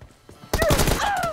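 Gunfire and headshot hits in a mobile shooter video game's team deathmatch, a dense burst of shots starting abruptly after a quiet moment and continuing loudly with tonal whistling effects.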